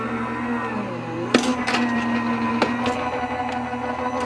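A Gemini Junior electronic die-cutting machine hums steadily while sharp cutting clacks strike at irregular intervals, close and fairly loud, with a faint whine running underneath.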